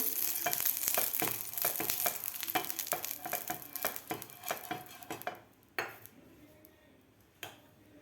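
An oiled pan for frying potato slices sizzles softly beneath repeated clinks and scrapes of utensils against the pan, and the clatter thins out toward the end.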